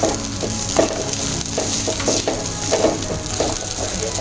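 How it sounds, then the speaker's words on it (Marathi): Finely grated dry coconut is sautéed in a pan over a low flame, with a steady sizzle and repeated rhythmic scraping strokes of a spatula close by. "व्यवस्थित परतून घ्यायचे. मंद आचेवर परतायचे."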